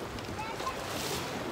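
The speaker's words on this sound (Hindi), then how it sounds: "पर वहाँ और ये जेट स्की देखिए" A jet ski runs on the sea off Bharatpur Beach, Neil Island, in the Andaman Islands. Its engine is lost in a steady, moderately loud wash of wind and surf with no distinct passes.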